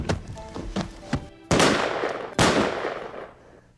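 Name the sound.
gunshots in a dramatized home defense scene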